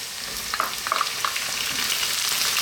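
Potato pieces for garlic cabbage and potatoes fry in a pan as onion goes in, a steady bright sizzle broken by a few soft stirring knocks and clicks, close and continuous with no voices.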